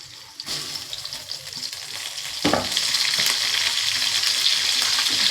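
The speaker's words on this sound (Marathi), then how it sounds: "आता तेल गरम झाले, त्याच्यात कांदा टाकूया." Chopped onion drops into hot oil in a pan, breaking into a sudden loud, steady sizzle and crackle that continues evenly after a few stirring scrapes.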